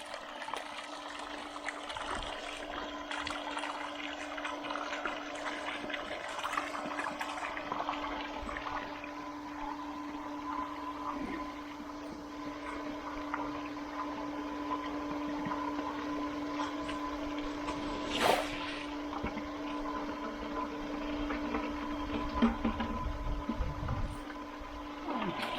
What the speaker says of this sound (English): We're gonna pump it until that comes out clear.